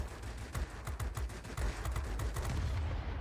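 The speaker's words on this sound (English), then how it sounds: "Start shooting the air defence aircraft." Rapid bursts of aircraft machine-gun fire in the World of Warplanes flight combat game, steady repeated rattling shots over a loud continuous engine roar, with no talking.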